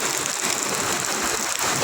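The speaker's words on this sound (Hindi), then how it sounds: "भारी बारिश हो रहा है भाई कितना बारिश हो रहा है" Heavy rain pours down steadily beside a petrol pump, a dense, loud and continuous hiss of water with no pauses or voices.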